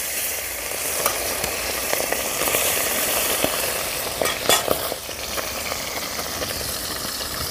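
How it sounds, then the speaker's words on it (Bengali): Fresh bata fish, rubbed with salt and turmeric, frying in hot mustard oil in a wok: a loud, continuous close-up sizzle with occasional crackles and brief spatters, and no talking. "কড়াইতে তেল গরম হয়ে গেছে, দিয়ে দেব মাছগুলো"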